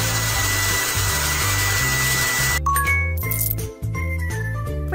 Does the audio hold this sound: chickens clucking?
no